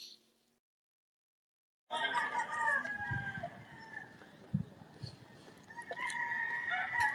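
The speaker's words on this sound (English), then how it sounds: "I like the chickens. I'm getting all roosters." Roosters crow and chickens cluck in a farmyard after a short silence, the calls rising and falling close by with a few sharp louder bursts mixed in.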